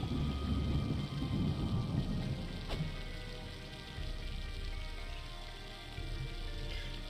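Steady rain pours throughout in the White Wolf video game, heavy at first and easing slightly, with a sharp crack of thunder near the middle and a low rumble underneath; no talking.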